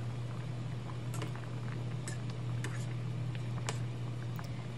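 Curry gravy with dhoka lentil fritters simmering gently in a pot, soft continuous bubbling with scattered small pops and ticks, close and quiet, no talk.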